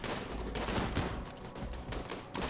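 Rapid automatic gunfire from miniguns in the video game Rimworld, a dense, continuous barrage of overlapping shots lasting throughout, loud and without talk.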